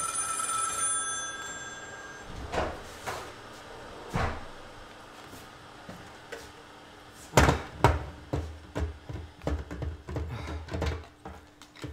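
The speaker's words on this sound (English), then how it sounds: "I got a phone call coming in." A telephone rings with an incoming call in the opening seconds, a bright trilling tone, followed by cupboard and door-like knocks and clatter around a kitchen while tea is being made.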